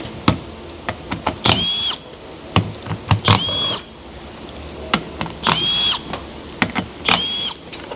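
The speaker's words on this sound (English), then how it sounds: "Let's pull off all these bolts down here." A power tool zips bolts off the underside of a junkyard Chrysler/Dodge 3.6 engine: repeated short whirring bursts with rising whines, separated by ratchety clicks and metallic clatter, close and loud.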